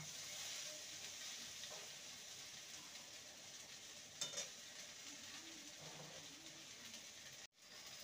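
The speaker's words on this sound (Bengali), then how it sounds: "ভালো করে নেড়ে নেব। ভেন্ডিটাকে ভালো মতন ভেজে নিতে হবে।" Okra frying in a pan while being stirred, a faint steady sizzle with soft occasional scrapes, quiet and continuous before a brief dropout near the end.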